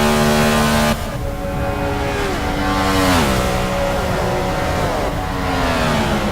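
Several race cars in a racing video game run together in a tight pack, their engines droning loudly and steadily with overlapping tones that rise and dip as they shift gears, with no voices.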